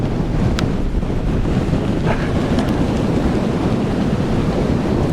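Strong wind buffets the microphone in a constant loud rumble on a fell near Lords Seat and Broom Fell, with no voices.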